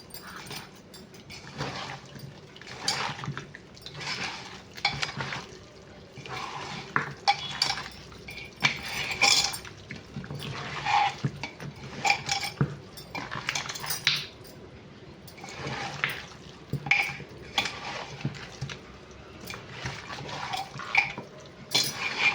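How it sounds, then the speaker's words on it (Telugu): Goat head pieces for Andhra thalakaya curry being worked together with spices by hand in a metal vessel, giving repeated wet squelching and soft clinking in uneven bursts, close and fairly loud with no talking. "ఇప్పుడు చక్కగా చేతితో మొత్తం వేసిన ఇంగ్రీడియంట్స్ అన్నీ దీనికి కలిసేటట్టు కలుపుకోవాలి"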